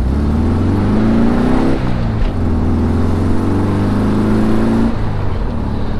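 A Volkswagen bus engine runs loud and close throughout, droning steadily and rising in pitch through a gear, then dipping briefly near two seconds and again near five as the gears change.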